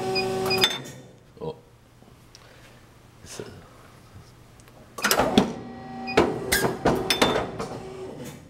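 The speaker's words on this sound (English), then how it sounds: "So you can hear that it's both are hydraulic, and we are cutting 11 inches now." A hydraulic cutting machine with hydraulic clamp and blade, cutting 11 inches, gives a quiet thump and then a series of loud metallic clanks and clatters near the end, with a person talking.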